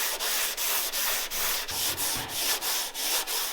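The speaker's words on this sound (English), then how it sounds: "So I've got all this plastic filler cut down with 80 grit." Close, steady sanding of plastic body filler on a Jeep with 80-grit paper. About ten even back-and-forth strokes make a harsh, gritty rasp with a regular rhythm, and no voices are heard.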